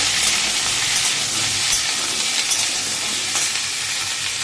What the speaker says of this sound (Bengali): তেলের মধ্যে আলু আর গাঠি কচুটা ছেড়ে এবার ভাজছি।